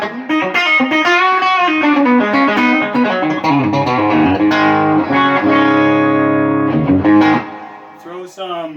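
Electric guitar playing through a clean amp cabinet and a distorted dirty cabinet at once, a loud, continuous run of overdriven notes and chords with some effects sheen, fading briefly near the end.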